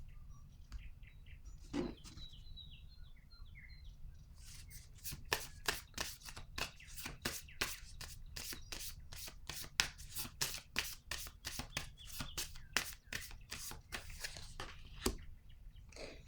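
Tarot cards riffle and snap in a long run of rapid, crisp bursts, close and fairly loud, with a few faint chirps in the quiet room before the shuffling begins.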